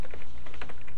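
A web address is typed on a computer keyboard in a fast, steady run of close, clicky keystrokes that lasts about a second, with no voice over it.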